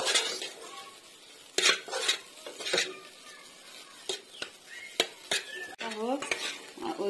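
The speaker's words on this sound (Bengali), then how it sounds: "এইভাবে লাহে লাহে ভেজে নিব বেসনটা" Gram flour (besan) dry-fries in a pan while a spatula scrapes and clinks against the metal in irregular bursts over a low sizzle, close and without talk.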